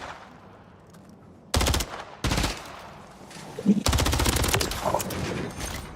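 Automatic weapon fire in Call of Duty Modern Warfare 3 ranked play, several loud sustained bursts of rapid shots broken by short gaps, over faint game background noise.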